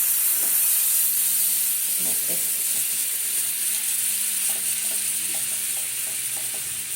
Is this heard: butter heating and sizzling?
yes